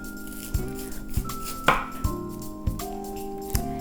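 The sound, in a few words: knife cutting cauliflower into steaks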